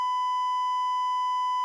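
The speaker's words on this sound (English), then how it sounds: "You can replace it with a beep tone." A steady electronic beep tone used to censor swearing plays as one loud, unbroken pure tone with bright harmonics, holding evenly for its whole length with nothing else heard.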